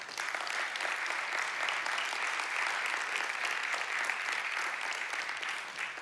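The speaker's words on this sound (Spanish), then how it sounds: "dele un aplauso al Señor" A church congregation bursts into loud, dense applause, steady clapping filling the space evenly for several seconds with no speech over it.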